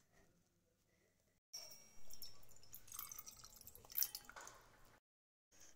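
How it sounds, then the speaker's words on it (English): Milk is poured into cake batter in a bowl, a soft liquid trickle and splashy drip starting after a quiet moment, growing a little louder before cutting off abruptly. "Now let's pour milk."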